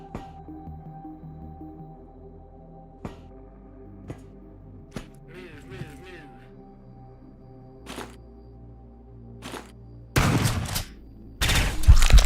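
Scattered single gunshots in a video game, sharp isolated cracks spread across the stretch, ending in two dense, loud bursts of rapid fire.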